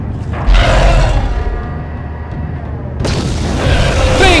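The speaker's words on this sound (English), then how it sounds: "I didn't know all it took was one fucking thermal detonator to kill a Rancor from the inside." Thermal detonator grenade going off inside a Rancor in the Star Wars game Knights of the Old Republic: a deep, muffled boom with rumbling low end, a brief lull, then a second heavy rumbling surge.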